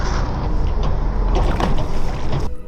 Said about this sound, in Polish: ale no tutaj dwie koparki, barka jeszcze za mną płynie.